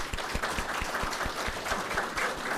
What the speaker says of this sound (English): Let's give a warm applause to our speakers and guests.